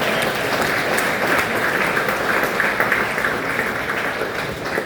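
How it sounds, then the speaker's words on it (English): Comedy club audience in Battle Creek, Michigan applauding a comic, a dense, steady wash of many hands clapping at full volume throughout, with no talk over it. "So give him a round of applause"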